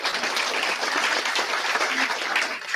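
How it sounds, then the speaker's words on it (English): Audience at a Melanesian school debate gives a sustained round of applause for both teams, dense steady clapping filling the room with no pause from start to finish. "please give another round of applause for both our teams."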